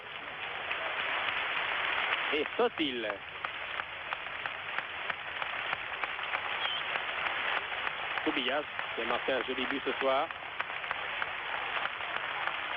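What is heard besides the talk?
Barcelona stadium crowd applauding a football player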